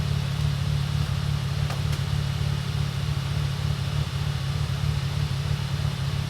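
Supercharged Mercedes SLK320 fitted with an aftermarket intake and exhaust, idling with a steady, even low rumble throughout, close and unchanging with no revs.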